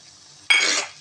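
Chopped tomatoes go into a pan of sautéed onions and are stirred, with a sudden loud burst of sizzling and scraping halfway through that holds briefly and then fades, with no voices.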